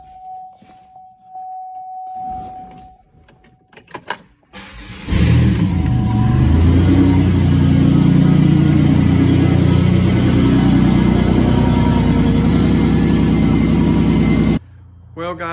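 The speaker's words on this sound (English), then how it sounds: "This thing's really loud because the exhaust isn't on it." A 2006 Buick Rendezvous 3.5 engine with no exhaust fitted cranks and catches, then runs loud and rough at a steady idle for about ten seconds before shutting off, with a short tone and some talk before it starts.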